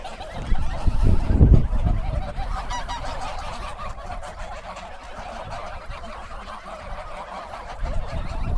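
Grey geese, the meaty breed also called German geese, kept on a farm, honking loudly in a close flock, with a strong burst of overlapping calls early on and then continuous cackling chatter throughout.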